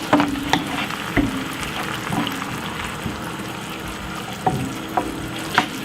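A spoon stirs shakshuka tomato sauce in a pan, giving a soft, wet sizzle and bubbling under scattered utensil scrapes and taps against the pan, with no voices.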